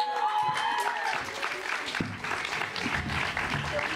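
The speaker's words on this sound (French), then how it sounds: "on les applaudit très, très, très, très fort" Audience applause at a school closing concert, steady dense clapping that fills the space, with some voices mixed in.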